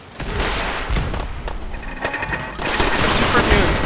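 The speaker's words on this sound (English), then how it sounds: "I'll shoot them all with my shotgun." Rapid shotgun and gunfire bursts from the video game Fallout 4: Far Harbor, loud and dense, with repeated blasts and booms packed across the whole stretch and a voice faintly mixed in.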